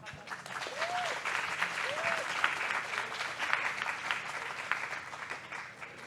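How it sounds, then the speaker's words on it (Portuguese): An audience at a book fair panel in São Paulo claps continuously in a dense, steady round of applause, moderately loud and close, with a couple of faint vocal cries mixed in. "Então, palmas para..."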